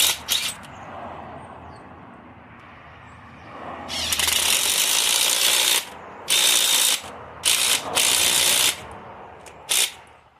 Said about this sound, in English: Run it in, run it out, run it in, run it out, so that you don't overstress the bolt itself.